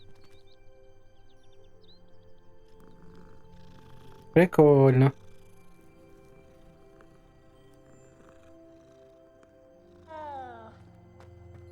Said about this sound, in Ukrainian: О, котик.